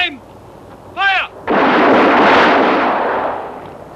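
A firing squad in a 1978 war film lets off one loud, simultaneous rifle volley that booms and rolls away over a few seconds, just after a brief shouted command.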